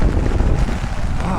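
Strong wind buffets the microphone on a rainy night in Manila, a loud, continuous low roar with no break across the short stretch.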